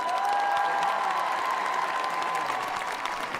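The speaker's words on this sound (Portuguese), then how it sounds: "com o aplauso dos jovens dos catecúmenos nesse encontro com sucessor de Pedro" Applause from young people and catechumens greeting Pope Leo XIV outside a church in Monaco, a steady dense clapping from a crowd that holds evenly throughout with faint cheering mixed in.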